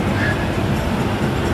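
A toy train runs inside an indoor game arcade in Dubai, giving a steady low rumbling roll with faint rail-like clatter amid general arcade noise.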